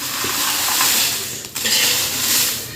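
Red chillies dry roasting in a pan over a medium-to-low gas flame, a steady close hiss and rustle of stirring with no talk.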